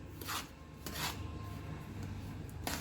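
A spoon scrapes and rubs through a rava and maida ladoo mixture in a bowl, with three short gritty strokes separated by quieter pauses.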